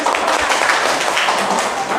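A group claps in a classroom session, a fast dense patter of many hands that stays fairly loud and steady throughout, with some voices mixed in.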